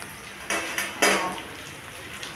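Pots and pans clattering during home cooking of fried potatoes, dal and rice, with a few distinct metallic knocks and clinks spaced out over a quiet background.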